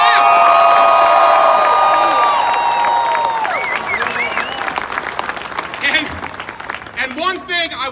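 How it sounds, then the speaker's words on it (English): A large crowd at an outdoor political rally in Michigan breaks into loud, sustained applause mixed with cheers and whistles, then thins into scattered clapping, whoops and shouts. "Clap, clap!"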